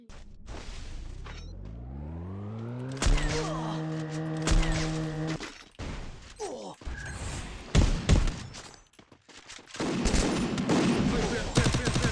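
Gunfire in a sniper shooting video game, with a rising engine-like whine, then a cluster of sharp shots and thumps mixed with other game sounds and dense noisy bursts toward the end.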